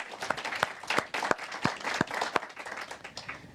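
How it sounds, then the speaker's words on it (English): A conference audience applauds after a presentation on electricity access in sub-Saharan Africa, with fairly dense clapping that carries steadily for a few seconds from a moderate distance. "I would probably want to ask you to applaud him one more time for a brilliant presentation"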